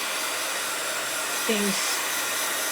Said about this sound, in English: just hit it with my heat gun